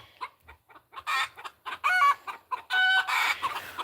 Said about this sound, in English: This little white rooster is definitely Whitey's son